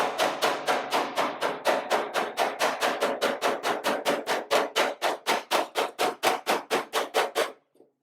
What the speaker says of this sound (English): I'm using the edge of the hammer right here.